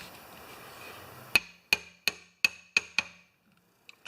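Six sharp metallic taps ring out in an even rhythm as an upside-down chisel, used as a punch, is struck into a Honda lawn mower with a broken pull rope, followed by a couple of faint clicks.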